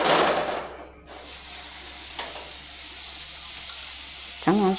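Butter melts and sizzles in a hot kadai on a gas stove, a loud, bright hiss that starts strongly, settles into a steady sizzle close by, and is stirred with a brief scrape near the end.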